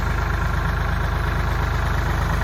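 A tractor engine idles with a steady low rhythmic chug, close and constant, no voices over it.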